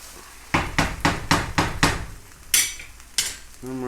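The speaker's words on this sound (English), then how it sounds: "Give that a stir." A spoon scrapes and clanks rhythmically against a pan while stirring stuffed pepper filling with crushed tomatoes, six evenly spaced strokes followed by a couple of sharper metallic knocks, with faint frying underneath.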